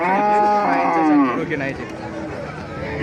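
A dairy cow at the Raniganj cattle market moos loudly for about a second, a long harmonic call, with crowd chatter and market noise continuing around it.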